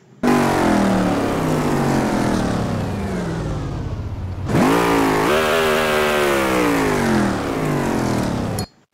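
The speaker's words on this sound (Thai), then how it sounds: "สตาร์ทเครื่องยนต์ได้ยังสตาร์ทได้แล้วนะครับ" A 2UZ V8 fitted in a purple Lamborghini fires up and revs loudly nearby, holding a rough high idle, dropping briefly, then surging into a second strong rev before cutting off.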